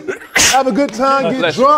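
One short burst of a sneeze from a person, loud and close, with someone talking before and after it.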